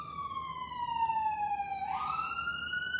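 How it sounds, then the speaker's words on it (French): Ambulance siren passing by, a wailing tone that slides down steadily then jumps and drops as the vehicle goes past, fairly close and clear over a quiet street background. "Laissons passer l'ambulance."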